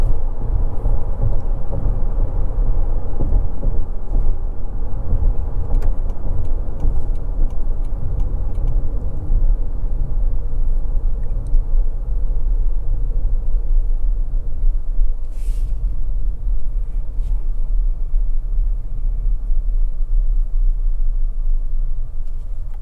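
Inside the cabin of a 2024 Toyota Grand Highlander Platinum cruising at about 70 mph on the highway, a steady low road and engine rumble continues without a break, with faint ticks and no talking.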